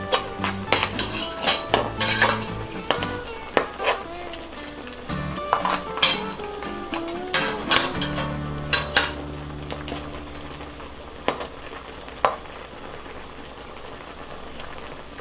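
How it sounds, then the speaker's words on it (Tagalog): A metal spoon stirring salted crab cooking liquid in a pot, with repeated clinks and scrapes against the sides, loud and close, in a busy irregular rhythm that slows and thins toward the end. "Tapos hahaluin lang natin para matunaw po yung asin."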